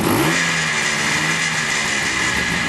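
A Benelli Enduro motorcycle engine revs steadily nearby, a close, continuous mid-pitched buzz with no talking.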